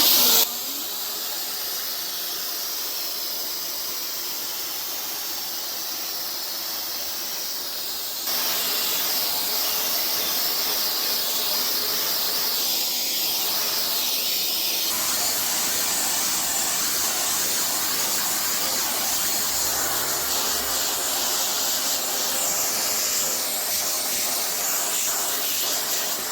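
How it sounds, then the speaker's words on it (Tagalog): A Total 800W TVC1412 wet and dry vacuum cleaner with HEPA filter and brush attachment runs with a steady, loud airy roar and hiss. It steps up noticeably in intensity about a third of the way through, then holds continuously to the end. "let's start to vacuum."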